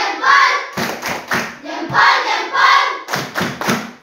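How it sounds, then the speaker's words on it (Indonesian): Schoolchildren in a classroom doing a rhythmic cheer clap, sharp unison hand claps in short patterned groups with chanted voices between the beats, fairly close and loud. "Ulang, tepuk semangat."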